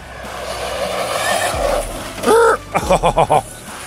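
An RC car on off-road tires slides sideways in a drift, giving a close, steady whirring scrub for about two seconds before short bursts of voices take over.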